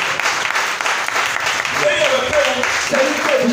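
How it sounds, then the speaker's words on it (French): A church congregation claps during a Sunday worship service, steady applause mixed with voices and a sung or chanted line running over it. "Acclamez pour lui."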